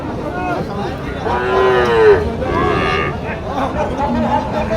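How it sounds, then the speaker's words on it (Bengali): A Nepali-breed cow at a busy cattle market gives two long, loud, nearby moos over a constant background of crowd chatter and voices. "এটা কিন্তু নেপালি জাতির একটি গরু বেশ বেশ আকর্ষণীয়"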